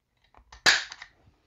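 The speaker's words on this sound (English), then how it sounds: "So I'll take my center punch." A single sharp metallic strike as a center punch is tapped with a hammer on a Mercedes-Benz door handle part, preceded by a few faint handling knocks.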